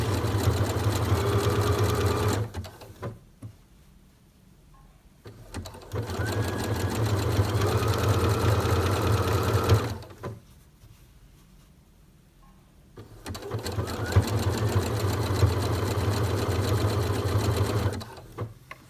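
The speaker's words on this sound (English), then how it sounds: "So now we've got the neckband sewn all the way around" A sewing machine stitches a jersey neckband onto a garment in three long bursts of steady, whirring hum, with quiet pauses between them while the fabric is repositioned.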